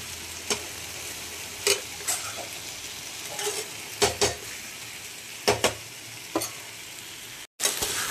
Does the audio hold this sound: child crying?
no